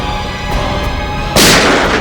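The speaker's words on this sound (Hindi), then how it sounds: "उसने मेरे ऊपर पहले गोली चलाई" A single sharp gunshot in a CID TV crime drama scene bursts out over a rumbling, tense background, loud and close, with a noisy tail trailing after it.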